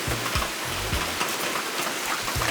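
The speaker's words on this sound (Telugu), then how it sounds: "బట్ వర్షం పడుతుంది" Steady rain patters down continuously at a tree house, a dense hiss with occasional low thumps close by, no voices.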